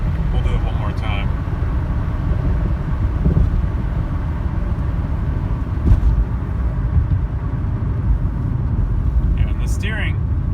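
Steady, loud low engine drone and road rumble inside a 1985 Mercedes 300D diesel sedan during a 0-60 acceleration run, with faint brief sounds above the rumble.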